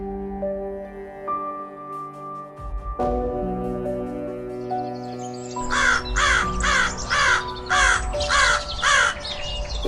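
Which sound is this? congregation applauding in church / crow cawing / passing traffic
crow cawing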